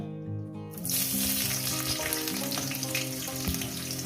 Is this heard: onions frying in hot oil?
yes